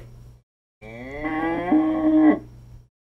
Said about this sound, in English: It's a cow mooing.